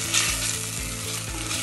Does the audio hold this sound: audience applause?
no